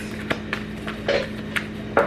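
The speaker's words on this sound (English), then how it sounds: "My dog is chewing on a buffalo horn" A dog gnaws on a buffalo horn nearby, making irregular hard clicks and scraping knocks at an uneven pace over a quiet indoor background.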